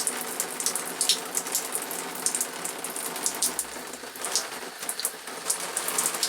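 Pink RV antifreeze spurts from a faucet in a fast, steady splatter of drops over a faint low hum, with no talking.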